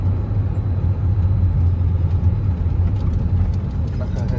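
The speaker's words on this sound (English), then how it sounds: "Oh, there's another bus coming this way, Sam." A Disney World bus engine rumbles low and steady nearby for several seconds, a continuous idling drone with faint traffic noise around it.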